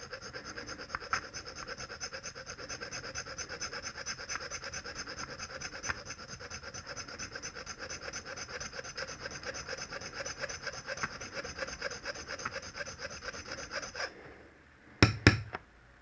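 A metal file rasps against a nail in steady back-and-forth strokes, close and fairly loud. The strokes stop near the end, followed by a few sharp clinks, and no one talks.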